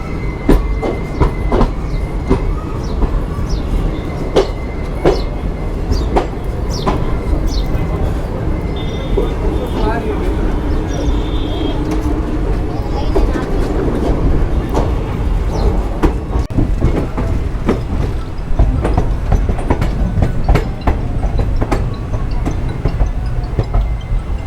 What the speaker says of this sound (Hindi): घर के कितने करीब से ट्रेन जा रही है।